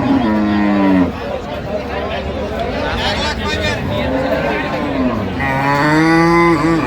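Cows and calves lowing at a busy cattle market in Ambari, Dinajpur, several drawn-out moos rising near and loud over steady crowd chatter and people talking throughout.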